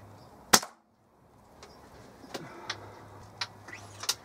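A single sharp crack from a Weihrauch HW97 spring air rifle fired at a target outdoors on a cold day, followed by brief silence and faint scattered distant noises.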